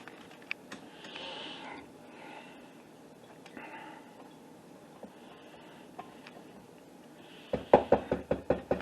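A utensil knocks cowboy cookie dough mixture back down in a stand mixer bowl, giving a quick run of about eight sharp knocks near the end after quieter faint handling sounds.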